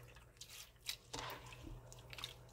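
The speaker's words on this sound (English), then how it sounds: "And now I'm actually washing my rice." Rice being washed by hand in water while preparing jollof rice, giving soft wet squishing and dripping sounds with a few brief splashes, close and fairly quiet throughout.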